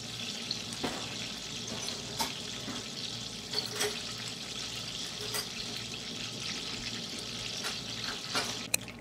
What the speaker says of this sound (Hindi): अब बटर के अंदर डालेंगे 1 अदद तेजपात, 3 अदद दालचीनी, 4 अदद छोटी इलायची